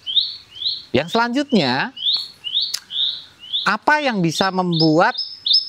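A Javan bushlark sings a steady series of short, bright rising chirps, fairly close and clear, running alongside someone talking.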